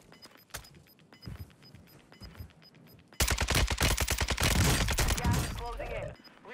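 Warzone 2 video game gunfire: scattered quiet shots and soft game sounds at first, then a loud sustained burst of rapid automatic fire for several seconds before it cuts off.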